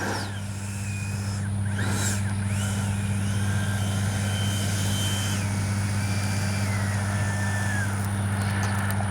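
An FMS 70mm Yak 130 RC jet comes in to land with a steady droning hum and a thin whine that rises and slides in pitch as the throttle changes.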